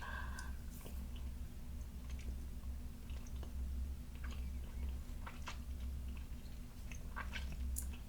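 Close, quiet chewing of a gummy worm, with soft squishy and sticky mouth clicks scattered over a steady low hum, no voice heard.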